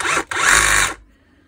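A DeWalt DCH333 cordless rotary hammer runs briefly in drilling mode, a loud close whirring burst with a quick dip near the start, then winding down to silence.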